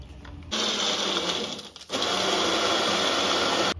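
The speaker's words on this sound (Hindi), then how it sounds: "इसे दूध डाल के ही पीस लेंगे" An electric blender grinds musk melon with milk, sugar and three ice cubes. The motor whirs loudly and steadily close by, with a short dip in the middle before it runs on hard to the end.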